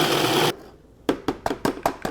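Food processor pulsing sunflower seeds, hemp hearts and freeze-dried strawberries for no-bake energy bites: a long whirring run, a short pause, then six quick rhythmic bursts, close and fairly loud.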